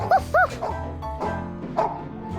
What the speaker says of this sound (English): Herbie was barking in a rage.